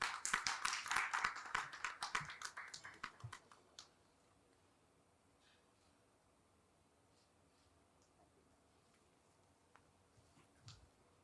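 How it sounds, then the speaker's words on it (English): Audience applause for a panelist at a cybersecurity conference panel on zero trust, a burst of clapping lasting about four seconds that fades out, followed by quiet room tone with a few faint scattered claps. "A huge round of applause for her"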